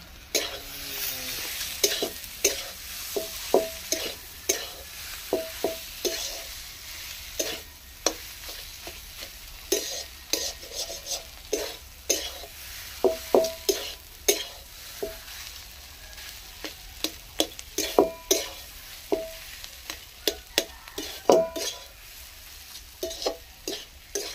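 Chopped green chillies are stirred in a frying pan, giving a quiet sizzle under repeated sharp scrapes and clinks of the spatula in an uneven rhythm, with no talking.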